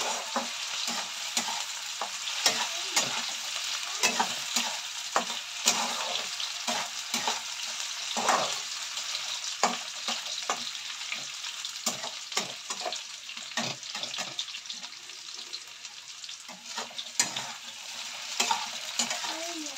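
Potatoes fry in a pan with a continuous sizzle, while a utensil stirs and scrapes at frequent, irregular intervals.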